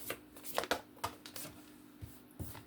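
Tarot cards riffle and slap in quick, uneven bursts, close and crisp, with short pauses between shuffles.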